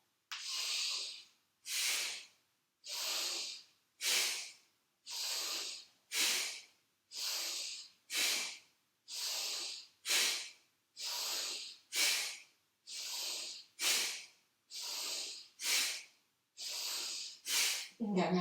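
Forceful rhythmic nasal breaths of a Bhastrika bellows breathing exercise during a hatha yoga session, about a dozen loud, hissing bursts in a steady cycle, close and alone.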